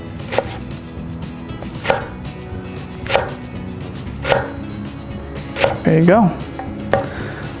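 A knife chops straight down through an onion on a cutting board, giving a series of evenly spaced crisp thuds, with a brief spoken remark and a short squeaky sound near the end.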